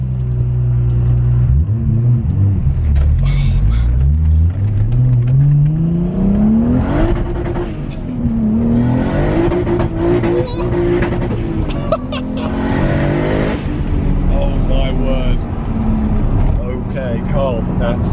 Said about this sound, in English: We're just saying the 2JZ engine is just bonkers. I mean, just listen to it.